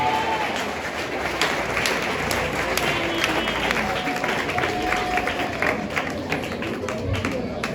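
Congregation at an evangelical crusade applauding, a continuous wash of clapping from a large crowd heard at some distance, steady throughout with faint voices underneath.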